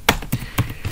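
Keys tapped on a computer keyboard while a file name is typed, a handful of sharp, close clicks spaced irregularly over a second, with no talking.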